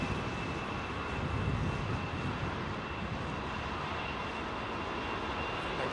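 An Iran Air airliner taxis out for departure at London Heathrow with a steady, broad engine roar and a thin whine, heard at a distance without pause.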